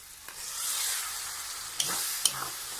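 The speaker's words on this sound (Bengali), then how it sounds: "এটিকেও ভালো করে কষিয়ে নেব মশলার সঙ্গে" Tomato paste frying with spices in oil in a pan, giving a steady close sizzle with a few sharp stirring clacks.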